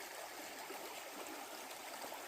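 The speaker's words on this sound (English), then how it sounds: "washing her dishes and filtering water" Water runs and trickles steadily in a quiet space while dishes are washed and water is filtered, a soft continuous flow with no voices.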